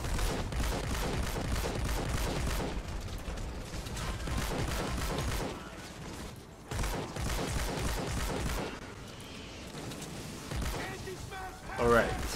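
Rapid bursts of Hydra assault rifle fire in Fortnite Save the World rattle in quick repeated volleys, broken by brief pauses and mechanical reload clicks, with in-game effects layered around the shots.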